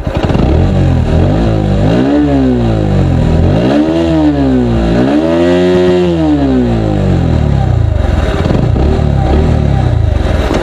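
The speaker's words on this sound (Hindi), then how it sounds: "आप साउंड सुन लीजिए बाइक का" A Bajaj Pulsar NS125 BS6 motorcycle engine revs loudly and repeatedly, pitch rising and falling in several swells before dropping back to a rough idle, close up.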